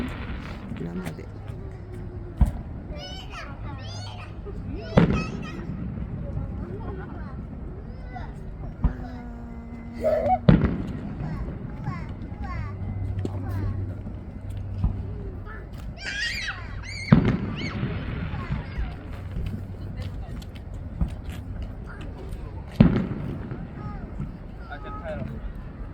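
A fireworks display bursts over Kaizuka with scattered sharp bangs, some distant and some closer, roughly every few seconds over wind noise, while people talk quietly nearby.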